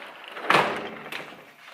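A door slams shut with a single sharp, loud impact, followed by a fainter second knock and some indoor rustle, with no talk over it.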